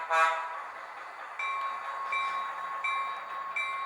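A small speaker on a model train layout plays a scale train sound effect: a burst of steam-like hiss followed by repeated whistle-like tones, thin and tinny, with no talking.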